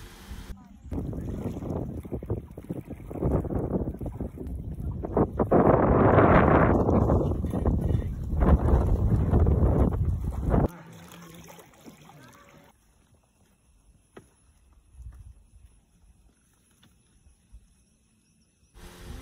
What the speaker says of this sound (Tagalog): sumakay kami ng bangka